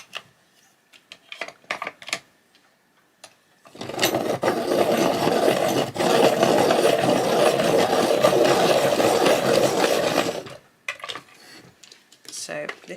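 A broken colouring pencil being sharpened in a handheld sharpener, giving a steady dry grinding rasp for about seven seconds between quieter scraping and handling sounds.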